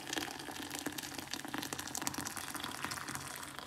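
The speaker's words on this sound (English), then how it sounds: "And then I'm going to fill it up with boiling water." Boiling water pours steadily from a kettle to fill a container for a craft dye mix, a continuous splashing gush with bubbling texture throughout, close and fairly loud, no voices.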